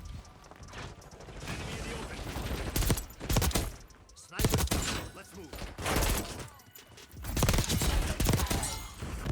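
AEK-973 rifle fire in the game Black Ops 6 comes as several loud, punchy bursts of rapid shots separated by brief pauses, with game noise and some speech mixed in.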